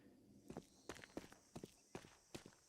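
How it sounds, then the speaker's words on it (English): Counter-Strike 2 footsteps during a pro match between Forze and 9ine at YaLLa Compass 2024: about eight quiet, evenly spaced steps thud in a steady walking rhythm against faint background hum. "Footsteps will certainly be heard by Jacob."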